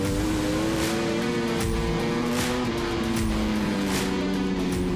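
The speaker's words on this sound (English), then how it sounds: "The bikes are approaching close to 300 kilometres an hour, and getting on the brakes into Pirelli here, it really tightens up" Superbikes racing at Queensland Raceway near 300 km/h, a loud sustained engine drone with shifting pitch as the bikes brake hard into a tight corner, several machines overlapping continuously.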